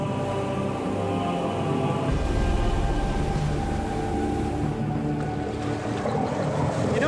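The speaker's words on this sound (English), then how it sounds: "How we're backing the boat up." A boat's engine runs steadily while the boat backs up at sea, a loud continuous rumble mixed with wind and rushing water that grows heavier after the first couple of seconds.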